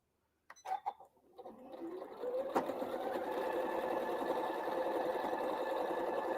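A sewing machine stitching a quilt block seam starts after a few light handling clicks, then runs in a steady, close whirring buzz of rapid needle strokes that continues evenly to the end.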